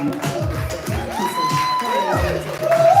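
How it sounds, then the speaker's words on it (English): A live spoken word poetry audience cheers and applauds as a poet steps to the stage, with loud crowd noise, whoops and clapping mixed with shouting voices. "Y'all applaud the poet as he steps to the stage."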